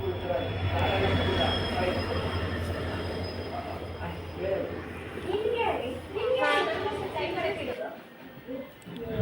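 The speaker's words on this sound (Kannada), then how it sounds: "ಟ್ರೈನ್ ಕೂಡ ಬಂತು, ಇವಾಗ ಇನ್ನೇನು ಹೊರಡಬೇಕು." A train arrives at a station platform in Shimoga, its low rumble and wheel squeals heard close by under steady conversation, with the rail noise rising and falling.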